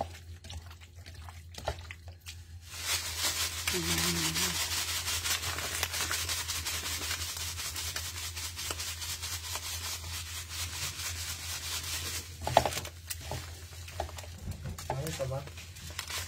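Hands mix breadcrumbs in a bowl, a soft continuous rubbing and crumbly rustle held close for most of the stretch, with someone speaking quietly at the start and near the end.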